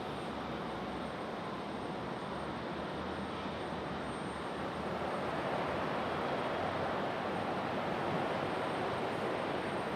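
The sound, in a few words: Delta Connection CRJ jet taxiing at Raleigh-Durham airport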